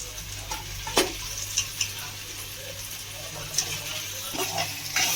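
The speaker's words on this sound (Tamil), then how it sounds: "சிக்கனும் அந்த மசாலும் சேர்ந்து நல்லா வதக்கலாம்." Two kilos of turmeric-washed chicken sautéing with green masala in a pan for Chicken Donne Biryani, a steady low sizzle with occasional stirring scrapes and clinks of the utensil against the pan.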